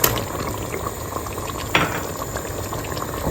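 Fresh tomatoes drop into a pot of beans stew that keeps bubbling and simmering steadily, with a soft plop partway through over the continuous wet boiling noise. Nobody speaks.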